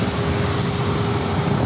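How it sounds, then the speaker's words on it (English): A KLM Boeing 787 Dreamliner taxiing toward runway 27 at an airport, giving off a continuous, fairly loud engine rumble and whine with a faint steady tone on top and no talking. "the KLM Dreamliner making its way over here to 27"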